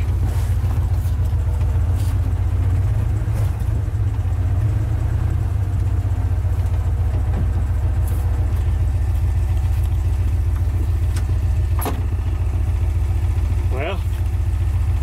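A 1967 Dodge D200 truck found sitting in a field has its engine running in a steady, loud, low rumble that continues throughout, with occasional faint clanks and a voice speaking over it.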